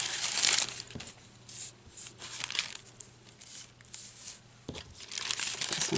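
Scissors snip through thin paper printed pieces while trimming parts away for a cardstock frame, with soft crinkling and rustling bursts, close and fairly quiet, no talking.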